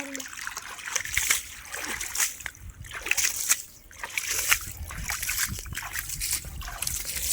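Water being bailed out of a pond to catch fish, with repeated splashes and sloshing arriving in irregular bursts, fairly close and loud, mixed with trickling between throws.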